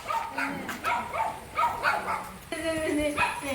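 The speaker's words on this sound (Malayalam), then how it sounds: "ഇവിടെ കുറച്ച് നായക്കുട്ടികളുണ്ട്" Puppies at a house bark and yip repeatedly in quick bursts, close and fairly loud, with whimpering mixed in and people talking alongside.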